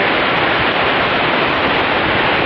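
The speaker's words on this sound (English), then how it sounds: "that is a big waterfall" A big waterfall on a forested hiking trail roars in a steady, dense, broadband rush that holds constant with no breaks and no voices.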